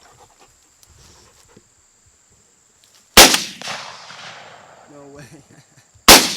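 Two loud shotgun blasts about three seconds apart ring out during a rainy dove hunt on public land, each a sharp crack with a short decaying tail, with faint rain, a few quiet words, and a bird-like chirp between them.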